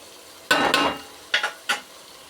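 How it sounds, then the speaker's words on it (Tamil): Onions fry and brown in a pan for mushroom biryani. A quiet sizzle runs underneath, broken by four sharp bursts of stirring and scraping, the first longest, then three quick ones close by. "இப்போ பார்த்தீங்கன்னா வெங்காயம் உங்களுக்கு ஸ்டெப் பை ஸ்டெப் ப்ரௌன் ஆகிட்டு இருக்கிறது தெரியுதா."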